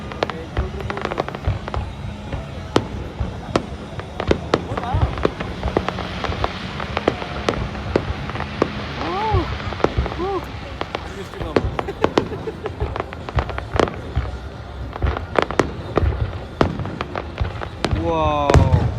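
A large fireworks display over Vancouver, British Columbia, with dense rapid bangs, crackles and booming bursts layered continuously over many seconds, a few whistling rockets rising among them, while people exclaim nearby.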